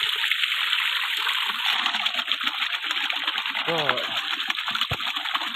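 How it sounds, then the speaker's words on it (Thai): Water gushes steadily from the outlet of a DIY solar-tracking piston pump filling a garden pond, a continuous loud splashing rush throughout with a brief gurgle and knock near the end. "น้ำที่ออกมาก็ ปริมาณได้อยู่นะครับ แรงเหมือนกันนะครับ"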